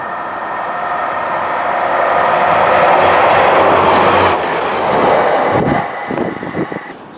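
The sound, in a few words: Class 142 Pacer train passing through Newton-le-Willows station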